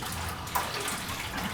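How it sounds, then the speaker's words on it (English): Water sprays and splashes steadily inside a brewing vessel on a beer brew day, rinsing out loose yeast, a continuous hissing rush with no talking. "just rinse basically the loose yeast cells out of there."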